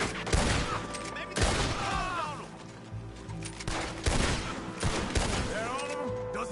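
Rapid gunfire in a Red Dead Redemption 2 shootout, with overlapping loud shots and ringing echoes spread through the clip, some of them sharp and close, under shouted voices.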